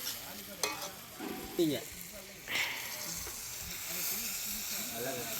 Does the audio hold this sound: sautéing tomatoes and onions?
yes